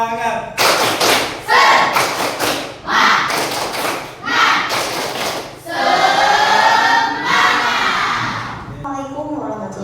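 Tepuk semangat, a group's rhythmic spirit clapping, rings out in repeated loud bursts of claps and thumps in a steady pattern, followed by voices chanting together over the final claps.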